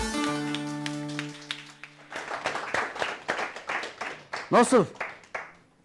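Studio audience applause breaks out after a musical number on a Turkish TV show, a spread of claps rising and falling in bursts, with a host's voice cutting in over it.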